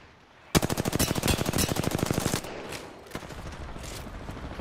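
Apex Legends gunfire: a sudden loud burst of rapid automatic shots lasts about two seconds, then a few scattered single shots follow at lower volume.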